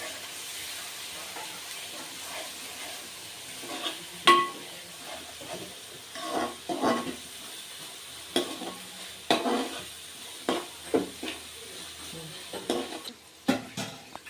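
Chicken masala sizzles and fries in hot oil, a steady hiss broken by repeated stirring scrapes and clinks of the pan, close and moderately loud with no talking.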